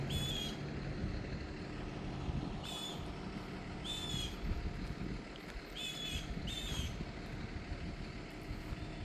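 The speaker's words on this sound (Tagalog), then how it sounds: "Ingay ng truck." A supermarket truck engine rumbles low and steady outside in Canada, fairly faint, with occasional high chirps repeating over it.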